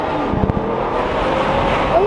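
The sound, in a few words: car with full titanium Rift exhaust driving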